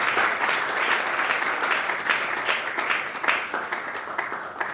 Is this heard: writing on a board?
no